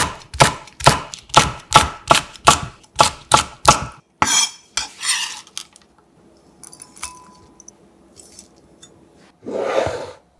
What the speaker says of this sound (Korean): 청양고추 2개를 반에 갈라 송송 썰어 담아줍니다